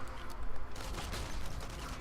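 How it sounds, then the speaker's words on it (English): Gunfire in the Enemy Front video game, an enemy shooting through a wall: dense, continuous bursts of shots forming a loud, rumbling fusillade that runs steadily across the whole moment. "I feel like he's trying to shoot me through the wall."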